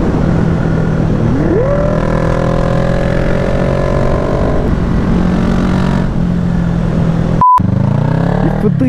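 A small pit bike revs through a dirt corner, its engine whine climbing sharply then holding a steady buzzing drone up close, loud throughout, with a brief sharp tone near the end.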